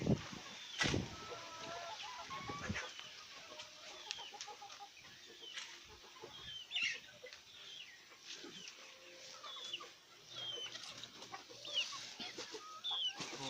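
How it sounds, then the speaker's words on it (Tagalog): Farmyard chickens, including a white hen and a red rooster, cluck and call intermittently at a moderate distance, soft scattered bursts over quiet outdoor ambience. "Tinuturo ko na yung puting manok."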